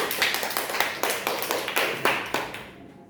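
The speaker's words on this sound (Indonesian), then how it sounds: "betul sekali, tepuk tangan untuk Hilda" Classroom students giving a round of applause for a classmate, several short rhythmic clusters of claps in a steady beat, fairly close and then stopping abruptly.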